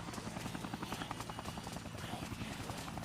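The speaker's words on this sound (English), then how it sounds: "Alright, helicopter. Where are you?" Helicopter rotor chop from the Dead Rising video game, a steady loud pulsing whir running throughout with faint speech-like sounds mixed in.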